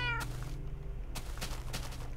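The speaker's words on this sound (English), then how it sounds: "Meow!" A cat meows in Minecraft, one clear synthetic meow near the start over steady in-game background hum and tones, followed by faint game noises.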